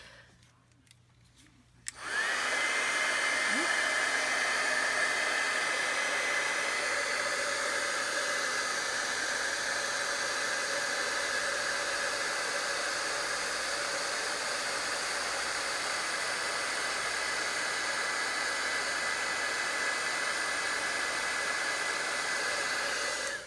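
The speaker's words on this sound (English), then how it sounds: "I'm going to heat set this." A heat tool blows steadily to set freshly stamped ink on a holiday card project, a loud continuous whooshing hum that starts abruptly after a short quiet moment and runs unbroken to the end, with no talking.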